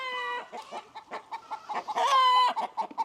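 Backyard hens squabble over nesting boxes, with loud drawn-out squawks and a rapid series of clucks, and a long crow-like call midway from the flock nearby.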